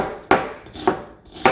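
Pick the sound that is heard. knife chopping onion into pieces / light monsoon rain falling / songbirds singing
knife chopping onion into pieces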